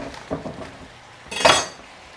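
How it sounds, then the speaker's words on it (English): Ceramic bowls shifted across a kitchen counter while making a paleo pork and pineapple stir fry, a few soft knocks followed by one louder clinking scrape, close by and alone. "move those bowls out of the way, get those off"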